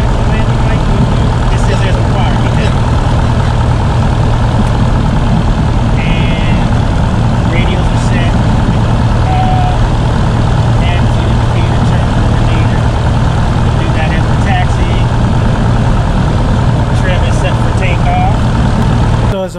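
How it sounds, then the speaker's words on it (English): A small private airplane idles loudly and steadily while taxiing to the runway at Memphis, a continuous engine drone with a low hum that persists throughout. "As I'm turning out to do my taxi to the next runway and take off from this next flight from Memphis to Kentucky"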